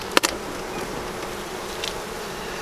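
Honeybees hum at an open hive during a spring inspection, giving a steady, close insect buzz with a few brief sharp knocks near the start.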